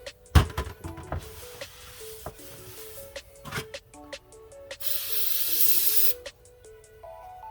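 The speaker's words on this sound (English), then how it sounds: "And just hit both of these with some spray clean." An aerosol can of carburetor cleaner sprays onto parts of a Holley 1940 carburetor from a 1966 Mustang during a rebuild, a steady hissing burst of about a second and a half amid clinks and handling noises of the parts.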